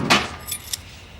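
A bunch of keys jangles briefly near a pub till, one bright metallic shake followed by a couple of lighter clinks, close and alone.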